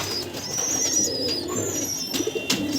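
Soft cooing of a female domestic pigeon close by, with faint chirps and rustling in the background.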